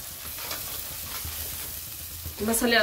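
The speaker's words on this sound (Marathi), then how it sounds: "आता आपण हे लाल तिखट हळद टाकली, मीठ टाकले, त्याला अजून मसाल्यामध्ये आपण परतून घेऊ सगळे एकत्र" Ground masala with red chili powder, turmeric and salt sautés in a pan for spicy Bhogi vegetable curry, a continuous soft sizzle with faint stirring scrapes, growing louder and busier in the last moments.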